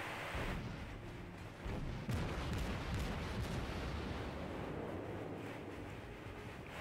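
Warship guns firing in World of Warships, a tier 2 cruiser Albany in naval battle gameplay, with a dense rumbling barrage of booms and crackling bursts rolling on steadily, fairly faint and without talk.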